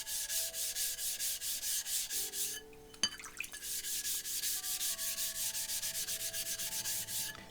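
A cleaning stone is rubbed back and forth across a whetstone in quick, even gritty strokes, close and clear, with a short pause and a clack partway through before the rhythmic scraping resumes.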